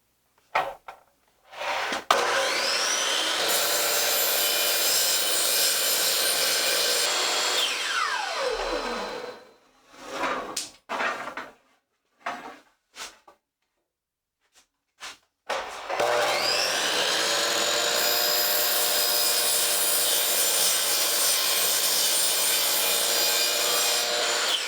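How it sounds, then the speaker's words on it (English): A miter saw spins up and cuts an angle through a wooden board, loud and close, with a whining blade and rasping bite, winding down, a few clunks, then a second long cut. "the easiest way to do this is at the miter saw"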